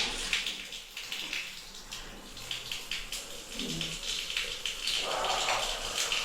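Water from the supply line refilling a newly installed toilet tank, a steady broadband rush and hiss with a brief gurgle partway through, close and continuous, with faint voices in the background.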